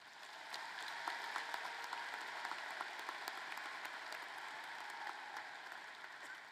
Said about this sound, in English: Let's recognize them all with another round of applause.